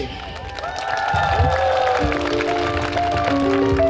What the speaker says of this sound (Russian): Аплодисменты! Аплодисменты не смолкают!